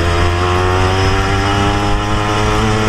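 A 1991 Suzuki RG Sprinter two-stroke motorcycle engine runs steadily during a test ride, a loud continuous buzzing drone close by.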